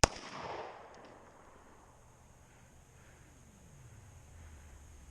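A single 9mm gunshot cracks sharply at the start, then its echo and a low rumble trail off over several seconds into quiet ambience.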